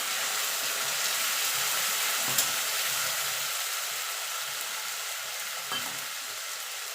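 Ginger, garlic, green and dried chilli paste frying with golden-fried onions for an egg curry, a steady loud sizzle throughout with a couple of brief stirring clinks, no talk.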